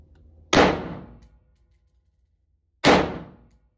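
Two sharp, loud rifle gunshots fired without a suppressor can, each with a short decaying ring, spaced about two seconds apart, close and with no talking.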